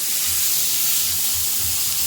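Red, green and yellow bell peppers with a garlic clove sautéing in a pan for an eggplant moussaka tagine give a steady, close, even hiss that runs unbroken for about two seconds, with no voices.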